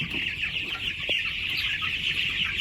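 Two-week-old meat chickens clucking in a heated brooder, a dense steady chorus of peeping and soft clucks from many birds close by.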